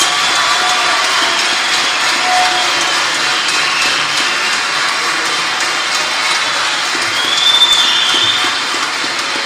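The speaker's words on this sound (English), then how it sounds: "Please give them a round of applause." An audience at a graduation ceremony applauds, a dense, steady clapping that fills the whole stretch at an even level, with no talking over it.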